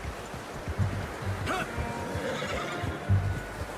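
A horse in Red Dead Redemption 2 neighs and snorts close by, a whinny rising midway, over a steady low background rumble with soft hoof sounds.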